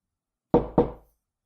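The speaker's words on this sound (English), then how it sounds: "A knock on the door." Two firm knocks on a door, close and loud, a quick pair in otherwise total silence.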